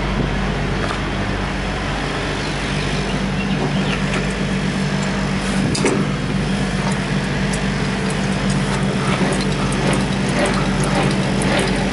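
Semi-trailer landing gear being cranked up by hand at a trailer drop yard, a steady mechanical ratcheting and grinding with faint clicks, heard alone over low ambient rumble for about twelve seconds.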